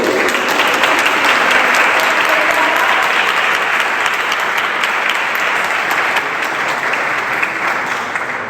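Audience applause at a talk on Santa Lucía festivities in Canillejas, loud dense clapping from a hall crowd, sustained and unbroken for several seconds with no speech.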